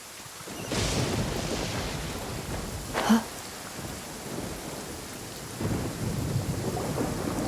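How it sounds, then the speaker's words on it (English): A thunderstorm rages in the video game Genshin Impact: steady heavy rain hiss fills the scene while a sharp crack of thunder strikes near the middle, followed later by a rumbling swell of the downpour. "Where is the storm headed?"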